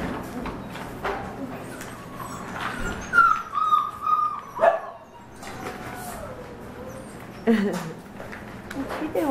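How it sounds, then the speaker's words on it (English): Shepadoodle puppies yip and whimper in short bursts while wrestling roughly, with a person talking over them at close range. "Normal puppy wrestling."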